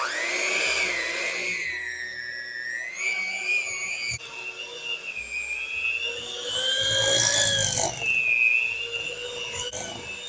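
A hand-held electric mixer beats cream cheese with sugar for an Oreo ganache cheesecake, a steady close whirring motor hum that shifts in pitch as it churns, running continuously with no talking.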